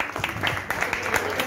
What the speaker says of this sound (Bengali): বিট্টুদার জন্য একটা জোরে হাততালি হোক।